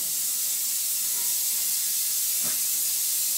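Ether sprayed from an aerosol can while race slick tires (33x10.5-15W) are mounted, a steady loud hiss throughout with a brief lower burst midway and no talk.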